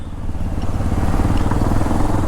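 A Hero Xpulse 210 motorcycle on a test ride, its engine a loud, steady, close rumble with a continuous throbbing beat throughout.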